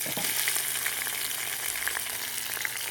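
Chopped onion, coriander and green chillies frying in a pan at an outdoor village cooking setup, a steady close sizzle with crackling pops throughout and no talking.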